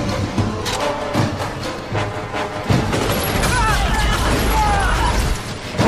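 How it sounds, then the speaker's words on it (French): Gunfire with real bullets in a French samurai war film battle: a dense, continuous clatter of shots, bangs and mechanical noise, loud and close, with shouting voices mixed in. "Maintenant, on tire avec de vraies balles!"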